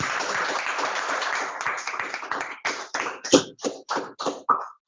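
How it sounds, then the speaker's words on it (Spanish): Audience applause for an engineer at the close of an electrical engineering lab session on rotating magnetic fields, a dense round of clapping that thins out into a few scattered, separate claps at the end. "Un aplauso para el ingeniero Vázquez."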